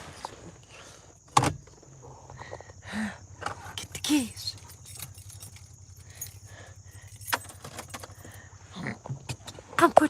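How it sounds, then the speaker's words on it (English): Car keys jangle near a parked car at a rural Tennessee cemetery, with a few sharp metallic rattles and clinks, door and handling knocks, and occasional quiet talk in between. "Get the keys."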